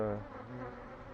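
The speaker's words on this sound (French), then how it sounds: "Le frelon blanc est dans la bouteille, je le vois. Voilà. Là, il y a deux frelons." Hornets buzz inside a bottle trap at an apiary, a close, continuous droning hum with a wavering pitch, heard alone and fairly faint.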